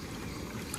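Cloth wipes sloshing and swirling in a bucket of rinse water, a steady wet churning close by with no talk.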